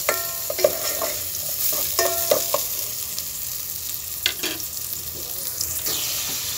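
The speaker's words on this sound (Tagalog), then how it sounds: "Ikaramelize lang natin yung sibuyas ng konti." Onions fry and caramelize in a pan for a Filipino mung bean dish, giving a steady soft sizzle broken by a few sharp stirring scrapes and clinks, with no talking.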